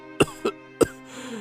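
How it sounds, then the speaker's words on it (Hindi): An old man coughs three times, sharp and close, each cough a harsh isolated burst with short pauses between, then a faint trailing wheeze. "इतना कहकर बूढ़ा फिर से खांसने लगा।"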